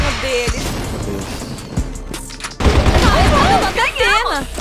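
Grenade blast and bursts of gunfire in the online shooter CrossFire, loud and dense with a sharp boom partway through, with a player talking over the game audio.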